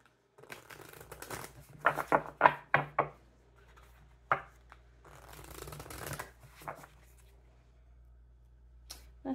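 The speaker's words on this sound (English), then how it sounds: "Do 2 more shuffles." Tarot cards being shuffled close up in bursts of quick riffling and tapping strokes with short pauses between, faint and intimate, with occasional soft speech.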